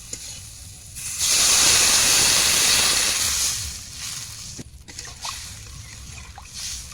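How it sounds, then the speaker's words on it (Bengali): Water poured into a pan of fried taro sets off a loud, sudden hiss of steam. It lasts a couple of seconds, fades, and gives way to softer bubbling and light clatter. "এবার আমি জল দিয়ে দেবো"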